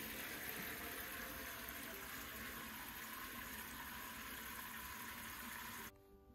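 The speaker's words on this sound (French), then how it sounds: "Je vais remplir une bassine d'eau du robinet." Tap water pouring into a basin in a plant-dyeing workshop, a steady, even rush of running water that continues for several seconds and then stops abruptly.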